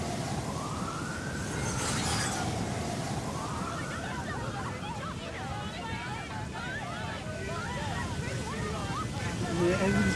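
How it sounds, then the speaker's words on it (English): Fire engine sirens wailing at a distance in a street scene, rising and falling tones under a noisy, windy background. "You hear the sirens? The fire engines and you see the firemen"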